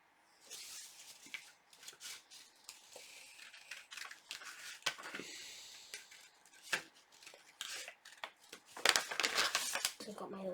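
Scissors cutting an oval egg shape out of paper, a series of close, irregular snips and crinkles with brief pauses between cuts.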